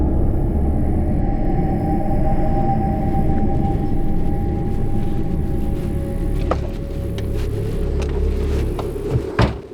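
A car engine rumbles at idle in a steady, loud low drone that holds throughout, with a few small knocks and rattles near the end.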